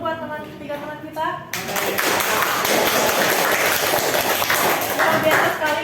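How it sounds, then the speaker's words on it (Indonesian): Classroom applause for three classmates breaks out after a teacher speaks, a dense, steady clapping from a group of students that fills the rest of the moment. "Tepuk tangan dulu buat 3 teman kita."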